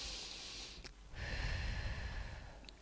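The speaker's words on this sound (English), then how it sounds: "let's breathe." Deep breathing: a sharp inhale through the nose, a pause, then a long, close, airy exhale, followed by the start of another breath.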